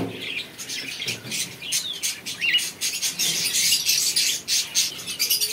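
Black cockatiels in a bird shop squawk and chirp in a dense, continuous chorus of overlapping calls, fairly close and loud, with no talking.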